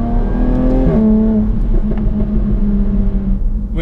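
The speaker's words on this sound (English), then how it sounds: "You just gently tap the throttle and the car already jumps and lifts its nose like it's super violent." Jaguar F-Type S engine in dynamic mode revving hard, a loud close harmonic roar that climbs sharply with a throttle blip, then holds and settles into a rumbling idle.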